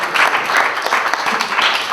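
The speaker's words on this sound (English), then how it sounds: "So let's give them and their production teams a round of applause." An audience applauds the selected films at a Greek film festival in Houston, a brief burst of dense clapping from many hands, loud and close, with no speech.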